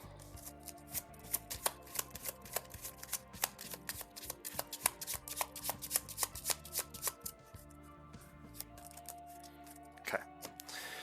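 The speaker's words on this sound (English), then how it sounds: "Let's shuffle the villain deck a few times here" A villain deck of game cards is shuffled several times, with crisp riffling flutters and snapping bursts repeating in quick rhythmic runs, close and clear with no talk.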